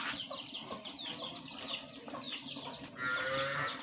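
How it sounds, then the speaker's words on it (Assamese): Chicks cheep and peep in quick high chirps as they come to eat rice, close and busy, with a hen clucking and farm animal sounds around them. "সেইয়া মুৰ্গী পোৱালিবোৰ জুমনতৰ সোমাব আহিছে চাউল খাব আহিছে"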